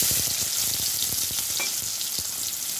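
Onions sizzle and crackle in hot oil after fenugreek, a steady bright frying hiss with soft stirring knocks, close up and without speech, while cooking a lentil dumpling curry.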